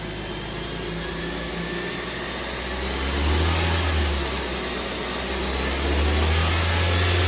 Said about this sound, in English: Okay, let it idle. Just let it idle.